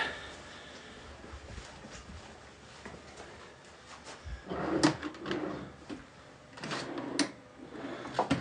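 A drawer is slid open indoors, a series of soft wooden rumbles and scraping knocks building toward the end, fairly quiet and close, with no talk.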